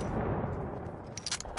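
A .50 cal rifle shot in Fortnite cracks loudly, with a dense blast and a rumbling tail filling the short moment, followed by a few faint sharp ticks.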